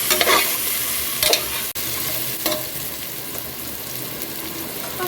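A spoon stirs biryani in a pot, loud repeated scraping strokes over a continuous close sizzle and hiss, with a few sharper knocks against the metal.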